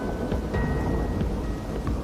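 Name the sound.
heavy rain and thunder in the Australian bush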